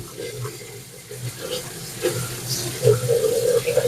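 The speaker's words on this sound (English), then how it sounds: "get some cold water on there as quick as possible" Cold tap water runs in a steady wash over cooked pasta in a strainer, a close, rushing splash with a voice talking faintly alongside.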